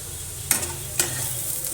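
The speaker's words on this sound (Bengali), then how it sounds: "ভেজে আর আলু ভাজা করলাম" Potatoes fry in a pan with a steady sizzle, broken by two sharp stirring scrapes. The cooking sounds are close and clear, and no one speaks.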